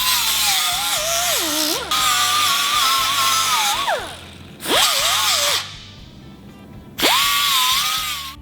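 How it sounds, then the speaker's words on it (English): Power drill boring holes in steel truck frame rails, loud and close, running in several long whining bursts that rise and fall in pitch as the bit bites, with short pauses between. "Remove the bracket assemblies and drill out all locations."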